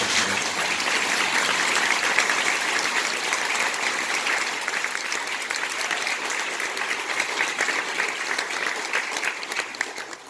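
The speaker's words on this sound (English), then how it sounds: "Please give your mahalo and applause to Mr." A concert audience applauds a high school band before its performance, a sustained, even roar of many hands clapping that holds steady for about ten seconds and then tapers slightly.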